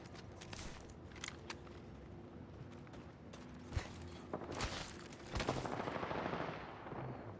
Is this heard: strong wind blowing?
no